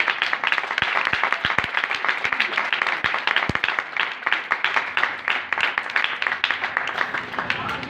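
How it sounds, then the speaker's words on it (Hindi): A church congregation breaks into loud, sustained applause with dense, crowded clapping. Voices cheer and call out underneath, and a few sharp individual claps stand out near the start. "एक बार जोरदार तालियां"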